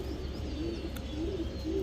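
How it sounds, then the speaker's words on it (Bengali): A male Afsan grizzle racer pigeon coos softly nearby, a few low rolling coos repeated at a steady pace over a faint background hum. "আফসান গ্রিজেল রেসার একটা নর কবুতর"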